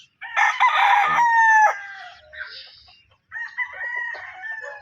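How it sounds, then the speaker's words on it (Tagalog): Roosters on a gamefowl farm crow nearby: one loud, full crow up front, then after a short pause a second, softer crow answers, slightly farther off. "Gwapo mga manok mga boss."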